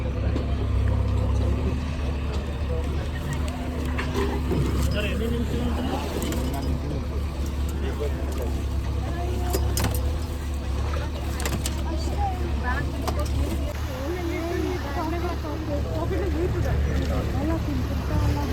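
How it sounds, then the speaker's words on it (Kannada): A four-seat speed boat on a lake in Hyderabad gives a steady, loud engine drone with rushing water, running continuously throughout with voices underneath. "4 ಮೆಂಬರ್ಸ್ ಸ್ಪೀಡ್ ಬೋಟ್ ತೊಗೊಂಡಿವಿ"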